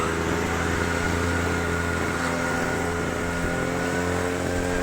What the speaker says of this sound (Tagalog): Tingnan ang motor na yun, no?